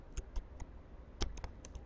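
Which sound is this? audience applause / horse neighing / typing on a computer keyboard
typing on a computer keyboard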